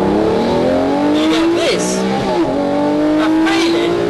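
Lamborghini Murcielago LP460 accelerating hard, a loud close engine note climbing steeply through the gears with quick dips at each shift, under someone talking.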